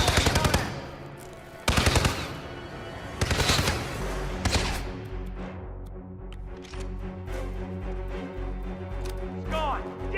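Gunfire from the video game Hitman 2: several loud, rapid bursts of automatic fire in the opening seconds, followed by sustained game noise with scattered shots and voices.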